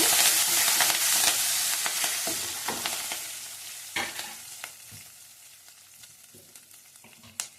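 Broken dried red chillies and curry leaves hit oil in a pan on low heat, starting with a loud hissing sizzle that gradually fades, with occasional crackles and stirring knocks.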